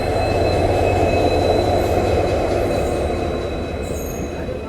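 A train, the Yeshwantpur–Hassan Intercity, rumbles along the rails nearby, a loud continuous roar with faint high squeal tones, gradually easing slightly toward the end.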